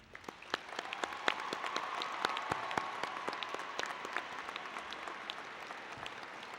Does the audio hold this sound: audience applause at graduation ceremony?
yes